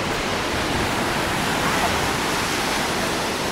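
Continuous, loud sea surf washes over a public beach in the Oba district of Alanya, a dense unbroken rush of breaking water with no distinct pauses.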